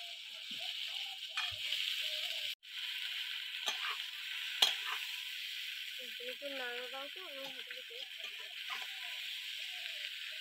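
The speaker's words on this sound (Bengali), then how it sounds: "এইবার সেদ্ধ করে রাখা আলুগুলো দিয়ে দেবো" Boiled potatoes tossed into hot oil in a pan crackle in a steady sizzle, with intermittent scraping and stirring strokes and a brief murmur of a voice partway through.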